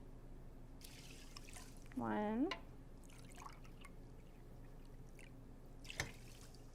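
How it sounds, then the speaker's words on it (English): Water poured from a cup into a pot holding a cup of lentils, a soft splashing trickle under a person talking, with a short hum of voice and a light drip near the end. "I'm gonna add 4 cups of water"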